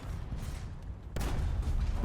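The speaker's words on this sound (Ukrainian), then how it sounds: "Вибух боєкомплекту?" A muffled, heavy explosion of a tank's ammunition rack in War Thunder bursts out after a low rumbling stretch, followed by a sustained roar of crackling debris and noise.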